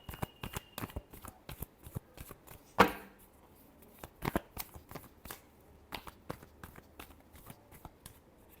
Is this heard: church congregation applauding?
no